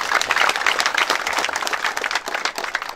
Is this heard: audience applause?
yes